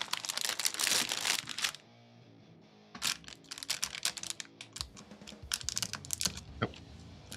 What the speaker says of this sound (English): crinkling ASMR